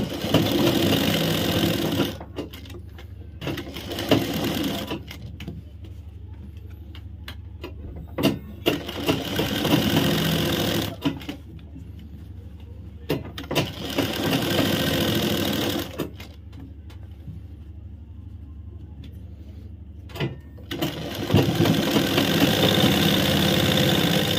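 A sewing machine stitches a straight seam on underwear fabric, loud rapid mechanical whirring in bursts several seconds long, separated by short pauses and faint handling clicks.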